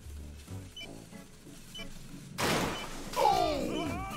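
Fireworks in the video game Bum Simulator go off as a loud burst of bangs and whooshing crackle with a rising whistle-like shriek, following quieter muffled game sounds.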